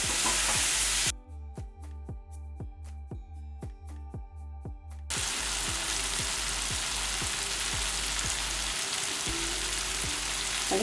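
Ginger garlic paste and garlic frying in a pan for a potato fry. The close sizzle drops away for a few seconds, leaving rhythmic tapping of stirring, then returns loud and steady under continued ticks.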